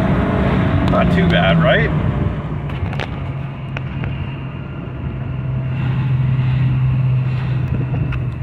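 A 2006 Hyundai Tucson with high mileage accelerates to 60 km/h, its engine a steady low drone with rising pitch under wind and road noise, while a person talks briefly near the start.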